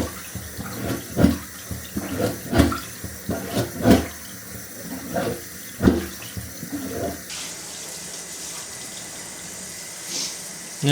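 Water running and gurgling in a shower drain just cleared with a plunger-style pump, with irregular sucking surges and splashes for several seconds before settling into a steady, softer flow.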